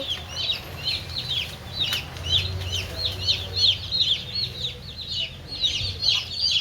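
Several hens and young chickens bought for a home coop cluck in repeated short calls close to the microphone, a steady chattering series that goes on throughout, with low background rumble and no talk.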